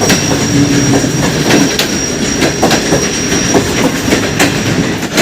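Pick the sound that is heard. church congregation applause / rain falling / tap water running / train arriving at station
train arriving at station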